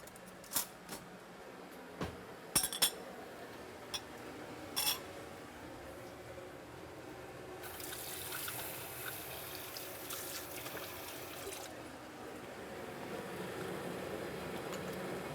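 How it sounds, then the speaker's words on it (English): Italian wedding soup is poured into a bowl: a few soft clinks, then a steady, close liquid pour that runs for several seconds before tapering off, with no talking. "we'll pour out a nice bowl of soup"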